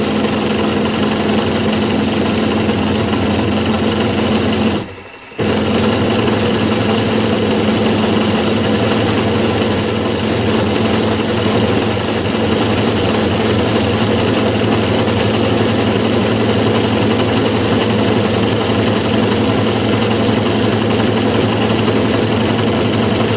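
A milling machine with a slot drill cuts a 3-inch Fowler crankshaft, running continuously with a steady droning hum and a grinding cutting texture, loud and close, with one brief dip early on.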